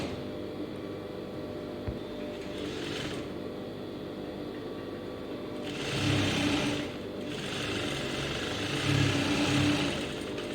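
An electric sewing machine topstitches a folded strip on a lined blouse, a steady mechanical hum that swells into two louder runs of stitching near the end, with no talking.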